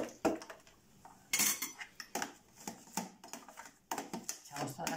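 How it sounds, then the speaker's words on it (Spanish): Shrimp peelings go into a pot of boiling water for a seafood stock, heard as a series of clattering, scraping kitchen sounds of metal and shells in close, irregular bursts with no talk. "Echamos todas las peladuras."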